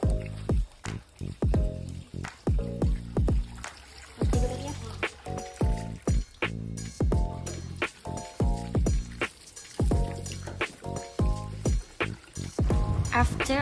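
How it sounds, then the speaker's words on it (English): Tap water runs steadily at a kitchen sink over fresh fruits being rinsed, with splashing and trickling under a voice talking throughout. "we turn on the tap at the sink and thoroughly rinse all the fruits under running water"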